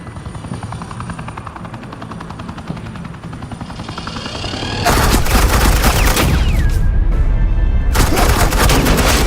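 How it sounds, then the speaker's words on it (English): Sustained gunfire from Batman: The Enemy Within erupts partway through, a loud, dense burst of automatic shots after a steady helicopter-like drone, continuing near and constant to the end. "Suppressing fire."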